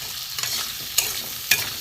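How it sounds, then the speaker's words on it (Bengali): Potatoes fry in oil in a pan for a fish curry with brinjal and mustard paste, a steady close sizzle broken by a few sharp scrapes as a spatula stirs them. "আলুটা ভাজা হবে, আলুটা মোটামুটি ভাজা হয়ে গেছে।"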